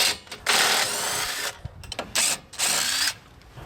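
Electric power trailer jack motor lowering a camper: a loud, whirring gear-driven buzz in several bursts of about half a second to a second, separated by brief pauses, close by with no talk.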